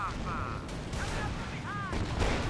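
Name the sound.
Hotchkiss artillery barrage in video game Company of Heroes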